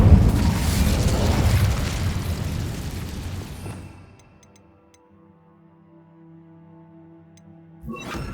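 An Incendio fire spell from Hogwarts Legacy bursts with a loud roaring blast that rumbles for several seconds and then dies away into quiet ringing game tones, with a fresh thump at the end.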